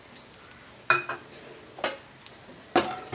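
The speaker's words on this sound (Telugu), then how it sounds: "ఇప్పుడు ఇదే ప్యాన్లో ఒక 1/2 కప్పు పచ్చి కొబ్బరి ముక్కలు వేస్తున్నాను." Fresh coconut pieces are tipped into a metal pan for frying, with a few sharp clinks and scrapes of a spoon against the pan, spaced irregularly and fairly faint.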